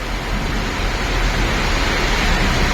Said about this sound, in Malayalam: നല്ല മഴ കേട്ടോ, അത് തീവ്രമായ മഴയാണ്